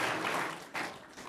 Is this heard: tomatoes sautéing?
no